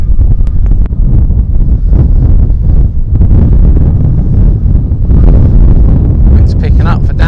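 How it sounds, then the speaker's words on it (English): Strong wind buffets the microphone on an open golf course, a continuous loud, low roaring rush with gusty swells throughout. "Wind picking up nicely."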